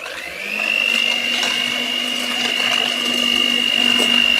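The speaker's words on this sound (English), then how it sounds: "now to mix the eggs." Electric mixer beating eggs for a homemade tiramisu, a steady whirring motor whine with a high pitched tone, loud and close and running continuously without talk.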